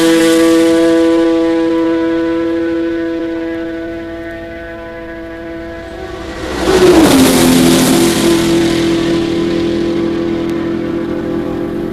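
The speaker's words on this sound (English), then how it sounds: "Nowhere but at Le Mans can you see and hear cars motor as fast as they do" At the 1966 Le Mans 24-hour race, a race car engine drones steadily, then one roars past close by with a sharp pitch drop, followed by another high engine whine trailing off.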